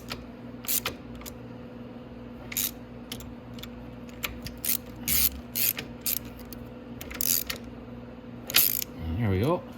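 A sprocket is tightened on a Venom Grizzly motorbike, producing repeated short metallic ratcheting and clicking bursts close by, with a steady mechanical hum beneath and a brief creaking whir at the end.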